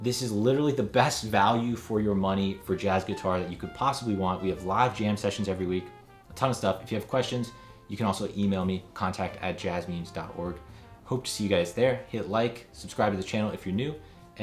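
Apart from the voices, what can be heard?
No everyday noise stands out behind the speech.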